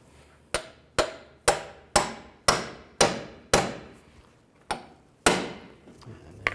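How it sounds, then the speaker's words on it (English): A hammer taps the outer tie rod end loose from the steering knuckle on a 2003-07 Cadillac CTS, about a dozen sharp metallic strikes in a fairly steady rhythm with ringing decays, close and clear with no talk. "take a hammer and just hammer, tap on the top right there"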